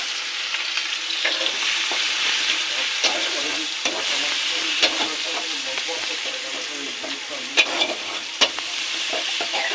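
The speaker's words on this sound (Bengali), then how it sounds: "এবার পেঁয়াজটাকে বেরেস্তা করে নেব" Thinly sliced onions fry in hot oil until crisp and browned for chicken biryani, a steady close sizzle broken by intermittent scraping and stirring clatters of a spatula in the pan.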